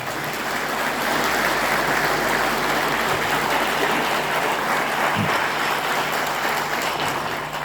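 Loud, sustained applause from a large crowd at an anniversary commemoration of the 9th HOS Battalion in Croatia, a dense wash of clapping that holds steady for several seconds before easing slightly.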